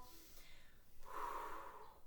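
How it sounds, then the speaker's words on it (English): A faint, breathy exhalation during a resistance band strength exercise, a soft airy breath that swells briefly and then fades, heard alone and at low volume. "Control that breath out and in."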